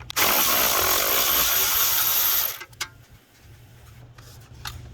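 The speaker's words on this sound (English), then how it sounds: "this is an 8mm, so we're gonna go ahead and take off that nut or that bolt" A power tool spins off an 8mm bolt at the front hub of a 2021 Ford F250 4x4, a loud close high-pitched whir for about two and a half seconds before stopping, followed by faint handling clatter.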